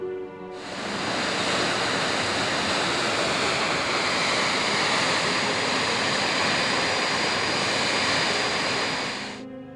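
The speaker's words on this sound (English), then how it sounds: "Macmac Falls on the Macmac River has been declared a national monument." Macmac Falls on the Macmac River in South Africa, a waterfall plunging over a gold-bearing reef, roaring as a dense, steady rush of falling water that fades in and out.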